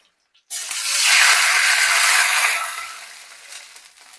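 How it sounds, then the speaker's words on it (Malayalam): A steady rush of water pouring into a bowl, starting abruptly after a brief silence and tapering off as the flow slows. "അപ്പൊ ഞാൻ കുറച്ച് വെള്ളം ഇതിലെടുത്തു"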